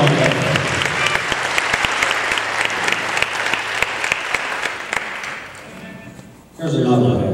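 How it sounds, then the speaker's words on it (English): A live-music audience claps steadily, the applause dense and close with some sharp individual claps standing out, then fading before a brief burst of talk or noise at the end. "round of applause, y'all"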